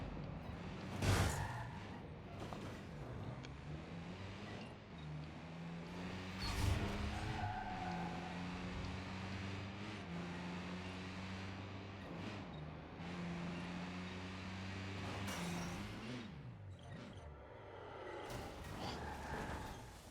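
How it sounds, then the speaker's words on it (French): Car engine in the open-world game Watch Dogs 2, a steady revving drone with shifting pitch as the vehicle accelerates and cruises, with occasional whooshes and brief impacts over twenty seconds. "la bagnole, elle envoie du stécos"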